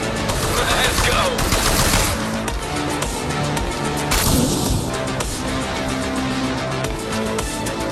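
Video game gunfire: dense, continuous bursts of automatic weapons fire fill the whole stretch, loud and close, with a few heavier crashing swells along the way.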